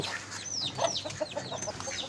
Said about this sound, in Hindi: मुर्गी को उस तरफ ले जाओ, मुर्गा इनको मार रहे, मुर्गी को उस तरफ दे।